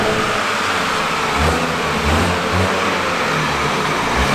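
A fast car on a German motorway with no speed limit roars steadily under acceleration, a loud, sustained engine and road drone heard from inside the cabin.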